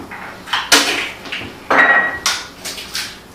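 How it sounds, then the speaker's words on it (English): Eggs are cracked against a hard edge for an omelette in a hot pan: a few sharp, close taps and cracks spaced apart, with quiet gaps between them. "Once we have it here, we can crack those eggs again"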